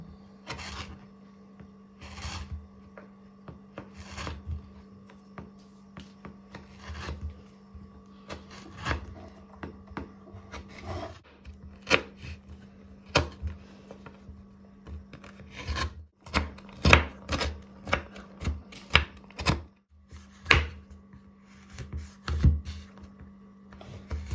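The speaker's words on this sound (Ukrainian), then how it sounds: "Беремо шоколадку з печем Орео і будемо дрібненько нарізати ножичком." A knife finely chops an Oreo chocolate bar on a board, giving a string of sharp, close taps and rasping cuts that grow denser and louder toward the end.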